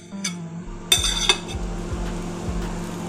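A knife cuts through a microwave-boiled potato, with a couple of sharp metallic clinks against the dish followed by soft, regular thuds close by and no talking.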